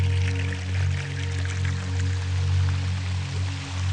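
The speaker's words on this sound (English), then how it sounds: "this creek's got a bit more water in it today" Water flows in a normally dry creek after fresh water arrives, a steady close burble and trickle with a low continuous rumble and no talking.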